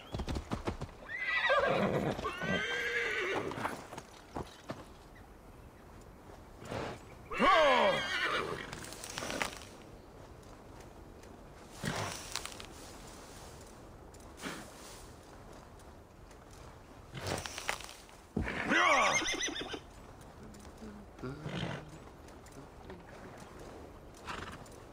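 Several loud horse whinnies recur over about twenty-five seconds, with hooves clip-clopping and short clicks between them, all close by and with no talking, from the video game Assassin's Creed Valhalla.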